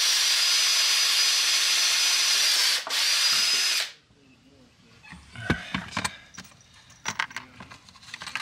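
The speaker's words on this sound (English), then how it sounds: "we'll just drill a couple of holes in it and mount her on there" A power drill bores holes in metal for a simple truck mod in a garage, a loud steady whine for nearly four seconds with a brief dip, followed by quieter clicks and handling clatter.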